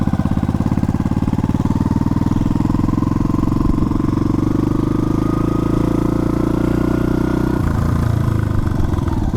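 Yamaha bobber motorcycle being ridden, its engine burning a little oil, with a loud close steady throbbing exhaust note that rises slightly in pitch, then changes tone near the end as the rider shifts.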